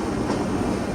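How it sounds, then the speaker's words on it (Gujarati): Tejas Express rumbles steadily as it crosses from a loop line onto the main line, a loud continuous roar of wheels and carriages close by. "લૂપ લાઇન પરથી મેઇન લાઇન પર જતી તેજસ એક્સપ્રેસ"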